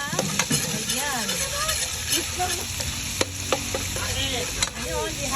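Garlic sautéing in a Salad Master casserole, a close continuous sizzle with scraping stirs and utensil knocks, while a voice talks briefly over it.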